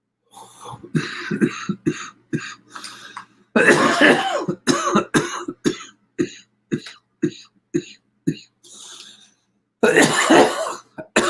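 Repeated harsh coughing and throat clearing, close and loud, coming in bursts and short runs separated by brief pauses.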